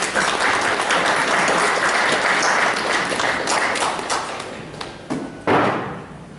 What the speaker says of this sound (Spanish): recibimos al doctor Dante Cayo Puno con un fuerte aplauso